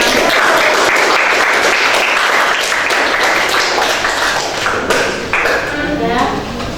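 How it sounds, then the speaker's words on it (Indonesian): A group claps at a teachers' coaching session in a classroom, a loud dense burst of applause mixed with voices that slowly thins out. "beri tepuk tangan untuk sampai"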